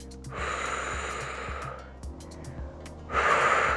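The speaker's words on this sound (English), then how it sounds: "We breathe into it." A senior exerciser breathes deeply during a looped resistance band workout: long, airy inhales and exhales, the last one stronger, over soft rhythmic background music.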